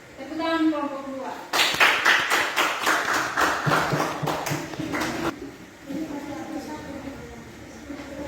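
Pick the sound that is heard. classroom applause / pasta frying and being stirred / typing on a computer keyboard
classroom applause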